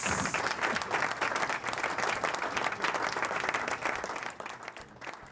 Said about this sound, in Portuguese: plateia virtual de pé, porque esse cara merece